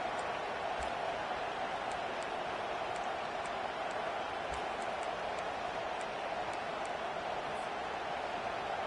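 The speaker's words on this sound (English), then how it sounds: "It is getting loud as this crowd tries to help its defense." Football stadium crowd roaring steadily at a loud, sustained level as fans try to help the defense, a dense continuous wash of cheering with faint scattered whistles.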